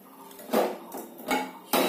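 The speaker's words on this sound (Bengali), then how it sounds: "কড়াইয়ে ভেজে নেব" Metal spatula clanks and scrapes against a wok as sliced ginger, black peppercorns and dried red chillies dry-roast without oil, three sharp bursts of clatter over a quieter rattling bed, close up.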